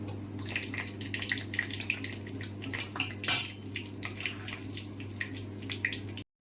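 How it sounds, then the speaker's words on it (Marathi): Two bay leaves and two dried red chilies fry in hot oil for dal tadka, making a continuous close crackle and spatter over a low steady hum, with one louder burst midway. "तेल आपलं तापण झालेलं आहे तर ह्यात मी आत्ता ॲड करत आहे दोन तमालपत्रे दोन बिडगी मिरची त्याला थोडंसं तळून घेऊया"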